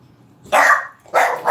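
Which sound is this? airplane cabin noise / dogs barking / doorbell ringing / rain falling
dogs barking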